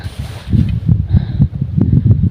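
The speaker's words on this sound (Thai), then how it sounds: "ลมกำลังพัดหิมะ มาอีกแล้วค่ะ" Gusty wind blows snow across a high Swiss mountain in winter, buffeting the microphone in uneven low rumbling bursts with faint crunchy rustles.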